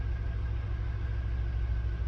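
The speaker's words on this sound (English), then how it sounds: "It's running so good. It's idling so clean." An LS V8 engine idles steadily in a single cab pickup truck, a low, even rumble with a smooth, regular pulse and no voices over it.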